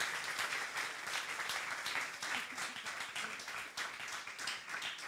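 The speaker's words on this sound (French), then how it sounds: "ça mérite des applaudissements" Steady audience applause fills a conference hall, dense and continuous clapping at moderate distance with no break for the full stretch.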